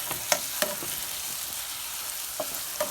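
Shallots and garlic sizzle in a pan, a soft steady hiss broken by a few sharp clicks and scrapes of a utensil stirring them, with no voices.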